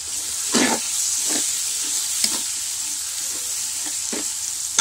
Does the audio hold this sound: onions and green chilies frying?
yes